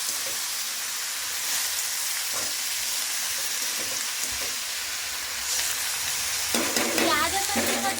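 Onions frying and being stirred in a pan in a home kitchen while cooking greens, a steady close sizzle with scraping stirs that grows louder and hissier toward the end.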